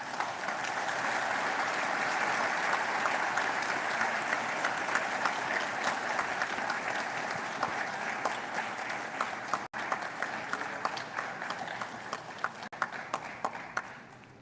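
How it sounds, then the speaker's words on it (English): A large crowd at a university graduation ceremony applauds loudly and steadily, dense clapping filling the space, thinning toward the end to scattered individual claps. "with a resounding round of applause, show some appreciation for their support"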